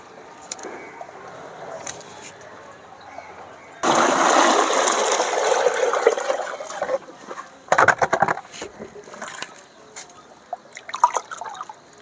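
Water trickles and runs for a few seconds, with scattered drips and small splashes around it, close by and moderately loud.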